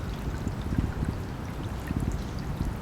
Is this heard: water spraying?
yes